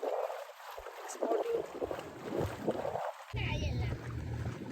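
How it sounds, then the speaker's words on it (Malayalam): A houseboat motors past on the Munroe Island backwaters, its low engine drone becoming steady and nearer toward the end, mixed with gusty wind buffeting the microphone. "ഒരു ബോട്ട് വരുന്നു."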